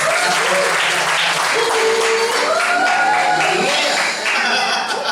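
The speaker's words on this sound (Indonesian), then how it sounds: "Siapa yang bisa tepuk tangan buat Tuhan?" A church congregation applauds during a Sunday service: dense, sustained clapping from a large crowd at a steady level, with a voice or tones carrying over it.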